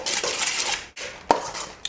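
A spoon stirs and scrapes through chunky guacamole in a bowl, a continuous wet mashing swirl with a brief pause and a sharp clink against the bowl's side.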